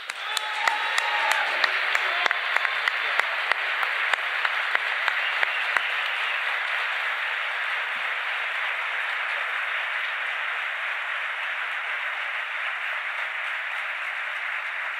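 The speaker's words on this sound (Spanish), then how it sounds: "Por eso, otro aplauso para Agustín." Audience applause at a Spanish-language political event, sustained broadband clapping that is heavy throughout, with sharper individual claps standing out in the first few seconds.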